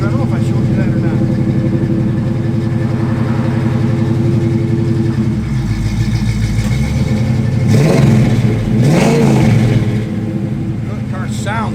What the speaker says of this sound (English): That car sounds great. That exhaust is nice on that car.